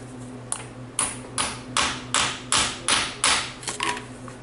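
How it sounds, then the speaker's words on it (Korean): Hammer blows on a plastic part during DIY repair work: about eight sharp, evenly spaced knocks, each with a short ringing decay over a steady low hum, close and fairly loud, with no talking. "이제 요걸로 얘를 이제 망치로 얘를 치는 거예요."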